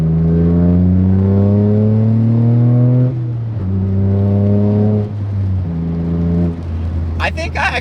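Toyota Celica GT-Four with the OTL exhaust valve open, engine revving hard in several rising pulls broken by brief gear-change dips, loud and close, with a short burst of other noise at the end.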